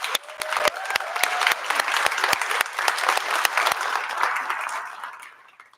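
Loud, close applause from an audience at a student seaweed challenge event, with sharp distinct hand claps standing out over a fuller crowd patter before tapering off to quiet.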